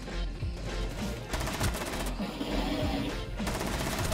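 Rapid automatic gunfire in Rainbow Six Siege sounds in dense bursts, broken by a short pause, and is loud and close throughout.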